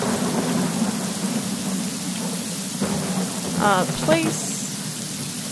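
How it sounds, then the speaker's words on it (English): Steady rain and rumbling thunder in the farming game Yonder: The Cloud Catcher Chronicles, a constant wash of downpour with low rolling rumble, overlaid by brief game chimes and a voice speaking softly. "It's raining."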